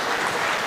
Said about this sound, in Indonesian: Tepuk tangan buat Bapak Jokowi.